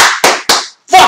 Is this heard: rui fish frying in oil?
no